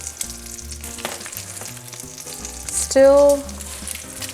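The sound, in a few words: bacon frying in a pan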